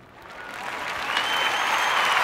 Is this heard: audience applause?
yes